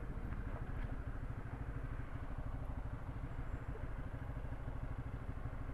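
Motorcycle engine at idle, a fast steady putter that stays faint and continuous, with no talk.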